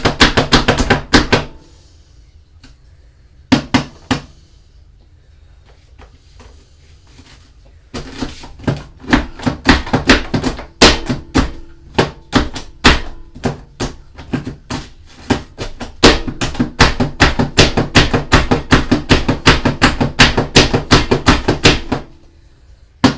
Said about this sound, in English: So now our onions are all chopped up.